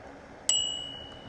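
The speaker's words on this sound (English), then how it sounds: "Here's the bell." A single bright ding from the small bell on a Euphree Solar Sparrow bicycle, struck once and left to ring out with a long clear tone over quiet background.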